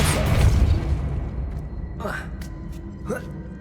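Depulso spell cast in Hogwarts Legacy, a loud booming whoosh at the start that fades, followed by two short sharp bursts, with voices heard in the game.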